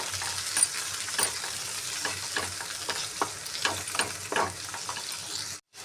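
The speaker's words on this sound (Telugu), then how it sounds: "క్యాబేజ్ కూడా ఫ్రై అయిందండి మంచిగా" Shredded cabbage and onion fry in a pan with a steady sizzle, broken by repeated scraping stir strokes, close and fairly quiet, then cut off abruptly at the end.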